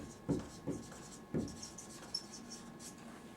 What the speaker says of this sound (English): let's draw a back wheel.